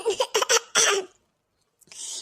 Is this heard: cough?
yes